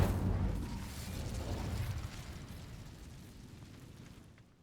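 An Incendio fire spell cast in a video game bursts out loud and close as a broad whooshing blast, then fades away over several seconds.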